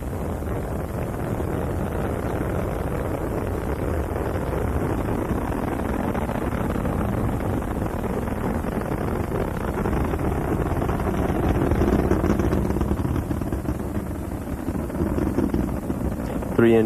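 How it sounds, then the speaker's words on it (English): Roaring rumble of Space Shuttle Columbia's three main engines during the STS-50 launch ascent, a steady broadband thunder held loud throughout with a gust-like, windy texture and a faint commentary voice underneath. "Three engines on board Columbia now throttling back to 2/3 throttle as Columbia prepares to pass through the area of maximum air pressure."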